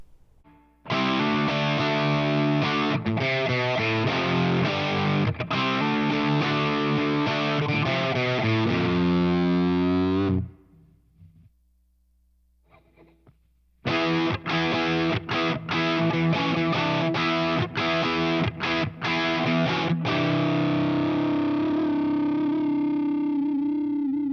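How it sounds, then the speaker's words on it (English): Fuzzy, distorted electric guitar through a Line 6 Helix fuzz tone playing thick sustained chords and rhythmic stabs, stopping briefly midway, then returning with choppy strums and a ringing final chord. "Fun techniques for using fuzz."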